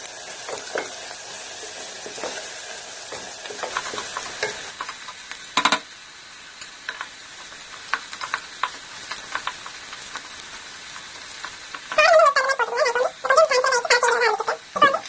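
Ingredients for green tomato biryani frying in a pan while being stirred until golden brown, with scattered spatula scrapes and clinks over a low sizzle and a louder flurry of stirring near the end.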